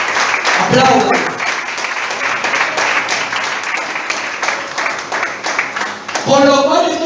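Church congregation breaking into applause, a dense wash of clapping that rises and lingers for several seconds, with a voice speaking over it at the start and again near the end.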